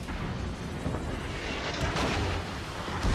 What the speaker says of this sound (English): The secondaries are hitting pretty good though